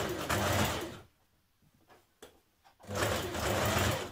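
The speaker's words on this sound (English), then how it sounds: "a few millimetres away from the edge of the seam here, you're sewing on the inside" Domestic sewing machine understitching a neck facing on a top, a loud rapid mechanical hum of stitching that stops for about two seconds of near silence and then resumes, close by with no talk.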